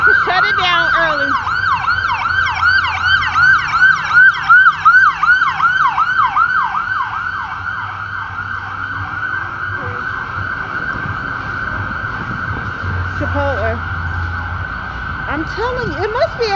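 Loud ambulance siren in downtown San Jose wailing in rapid yelping cycles, then settling into a steady tone as it passes, with road noise and a brief voice underneath.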